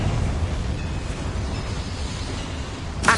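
A rushing, rumbling fire blast from the Confringo spell in Hogwarts Legacy, a sustained roaring burst that holds steady for about three seconds, with a sharp sound at the end.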